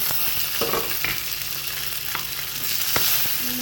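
Continuous crackling sizzle of coconut pieces, pumpkin seeds and raisins frying in ghee, with occasional light clinks of a spoon stirring the pan.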